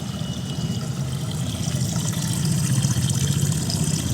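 Water poured out of a pot of rice during rinsing, outdoors on a rooftop, a steady close splashing stream lasting a few seconds with no talk.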